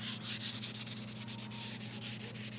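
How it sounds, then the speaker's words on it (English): Steady, quiet scratchy rubbing of fine sandpaper across Depron foam on a model aircraft, in short regular back-and-forth strokes, with a low constant hum underneath. "As you can see, I'm just sanding very loosely."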